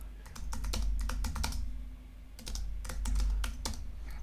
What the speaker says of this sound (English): I'll just type in some original text here